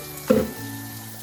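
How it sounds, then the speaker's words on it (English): Apples rinsed under a running kitchen tap: a brief splash and clatter as fruit meets the stream, then a soft steady trickle of running water. "We'll rub the apples clean under the water."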